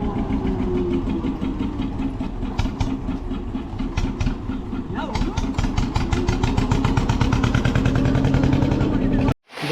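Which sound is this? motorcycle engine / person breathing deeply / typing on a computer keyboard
motorcycle engine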